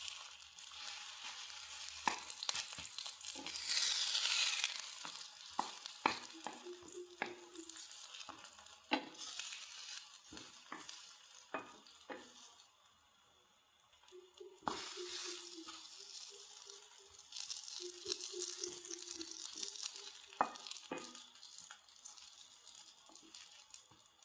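Banana and flour fritters frying in hot oil after being turned over, a steady close sizzle with scattered sharp crackles and pops, some brief clinks of utensils, and a short quieter lull midway.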